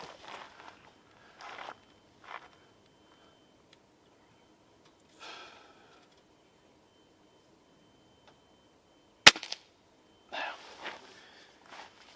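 A Gamo Swarm Magnum break-barrel air rifle fires a single .22 pellet with one sharp, brief crack at 25 yards, amid long quiet stretches with soft rustling and breathing-like sounds.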